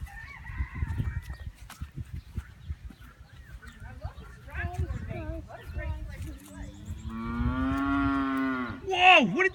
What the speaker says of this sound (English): They say moo.